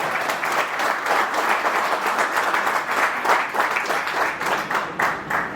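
Loud, dense applause from a large crowd at a speech in a hotel, many hands clapping at once in a continuous wash that holds steady throughout.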